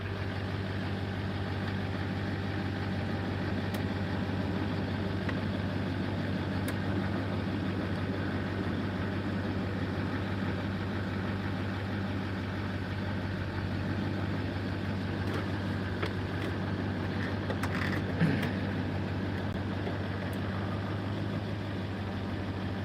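A Duramax diesel truck engine idles steadily with a low, constant droning hum, with a few faint clicks and a brief knock near the end.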